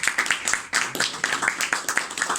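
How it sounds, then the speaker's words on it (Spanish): A small audience at a poetry gathering claps in a brisk, uneven rhythm of distinct individual hand claps, close and fairly loud, with a momentary dip partway through. "Un aplauso a la voz en off"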